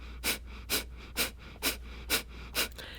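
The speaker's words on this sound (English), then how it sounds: "breath of fire is like taking rapid breaths in and out of your nose" Rapid, forceful breath-of-fire exhalations through the nose, six sharp rhythmic puffs about half a second apart, close and fairly quiet over a low steady hum.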